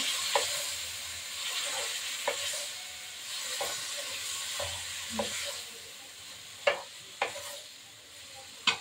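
Ground spice paste sautés with beet and carrot in a vegetarian curry, an even close sizzle punctuated by repeated knocks and scrapes of a spoon against the pan, sharper near the end.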